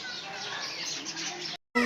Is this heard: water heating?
no